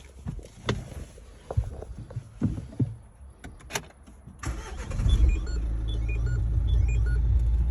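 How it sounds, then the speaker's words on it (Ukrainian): A series of clicks and clunks, then the 1.6 dCi diesel engine of a 2014 Renault Megane cranks briefly and catches, settling into a steady, close idle rumble. "Зараз покажу, як заводиться."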